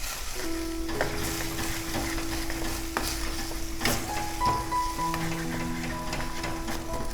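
Chicken is stirred with cornstarch in a hot pan, a steady sizzling hiss under intermittent utensil scrapes and taps, with faint tonal hums in the background, close and continuous.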